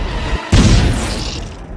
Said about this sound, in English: Ready to rehearse the cannon, Buzz?